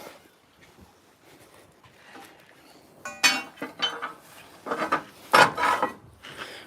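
A metal crowbar clinks and scrapes against metal parts during a brake job on a 2008 International WorkStar truck. After a quiet start, a few loud, sharp, close clanks and scrapes come in bursts.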